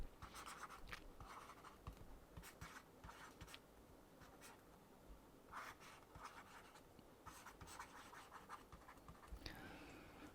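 Chalk or pen scratches out handwriting during a classical mechanics lecture, with quick faint strokes coming in irregular bursts and short pauses, quiet and close with no talking.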